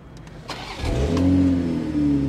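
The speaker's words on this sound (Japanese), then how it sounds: "じゃあ一応エンジンだけかけましょうか。" A Toyota Supra engine starts close by: a few starter clicks and a crank, then the engine catches and settles into a steady idle hum that continues to the end.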